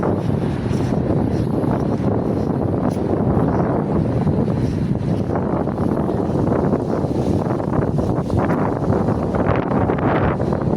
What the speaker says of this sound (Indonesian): Oh, anginnya dingin sekali